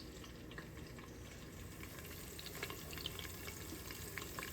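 Shrimp biryani ingredients sautéing in an Instant Pot, giving a steady, close crackling sizzle throughout with no voices.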